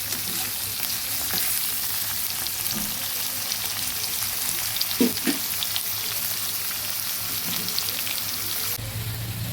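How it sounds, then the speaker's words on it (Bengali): Onions frying in a pan while cooking a Bengali fish-head pumpkin dish, a steady broadband sizzle with occasional soft stirring scrapes, close and continuous with no talking. "পেঁয়াজটাও সুন্দর ভাজা হয়ে গেছে।"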